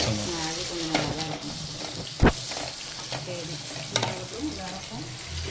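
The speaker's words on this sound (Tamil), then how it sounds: "பூண்டு இஞ்சி பொடிசாக நறுக்கி போட்டால்" Loud sizzling of finely chopped garlic and ginger frying in hot oil, a continuous crackle with occasional sharper pops and stirring clanks.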